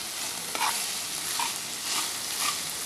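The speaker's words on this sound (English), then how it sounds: "Give it a very, very good stir" Minced beef for a samosa filling sizzles in a pan while being stirred, a constant close frying hiss with soft scraping strokes about once a second.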